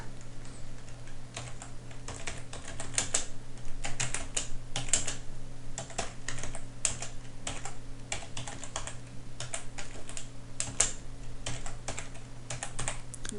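Steady computer keyboard typing, close and dense clicking of keys in quick irregular runs with short pauses, over a low constant hum, with no speech.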